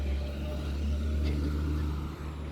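Big cars pass on a nearby road, producing a continuous loud low rumble of traffic with engine hum that dips briefly toward the end.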